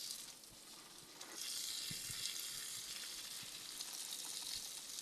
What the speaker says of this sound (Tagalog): Mag-water muna ng halaman, nakakaawa ang mga halaman.